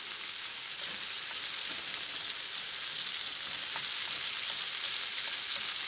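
Spicy seasoned chicken stir-frying with fried onion gives a loud, dense, even sizzle, steady crackling hiss throughout with no talk.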